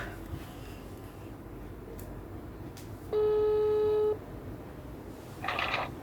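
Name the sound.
telephone ringing tone while calling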